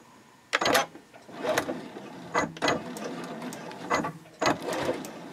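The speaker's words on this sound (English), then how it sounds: "I'll start sewing by back stitching" A sewing machine stitches fabric in short bursts, starting with back stitching, each run a loud mechanical whir that stops and restarts several times, close and alone.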